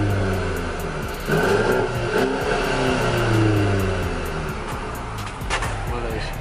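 A brand-new car's engine revs repeatedly through a newly fitted muffler exhaust at a muffler shop, a loud, close, rising and falling drone with a steady low rumble between throttle blips.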